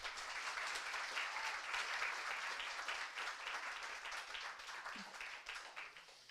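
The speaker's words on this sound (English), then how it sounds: "let's give the panel another round of applause" Steady applause from a panel discussion audience fills the room, dense clapping sustained throughout at an even level, with no voices over it.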